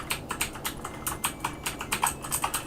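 Rapid keypresses on an Amstrad CPC computer keyboard, a steady run of close, crisp clicks at a quick, slightly uneven rhythm with no voices over them.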